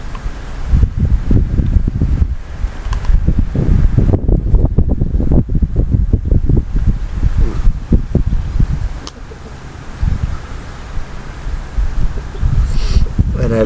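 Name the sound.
wind blowing outdoors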